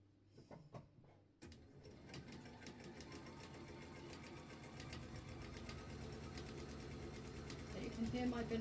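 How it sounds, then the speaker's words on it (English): A Bernina sewing machine stitches the first fabric strip for a stitch-and-flip landscape, running in a rapid steady mechanical rhythm after a brief quiet start, growing slightly louder toward the end. "You can hear my Benina wearing away, putting in that first strip"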